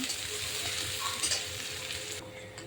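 Chopped onions fry in a pan for a rooster chicken curry, giving a continuous close hiss and crackle with a faint scrape partway through, then a sudden drop in the high sizzle near the end.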